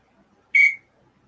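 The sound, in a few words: whistle blowing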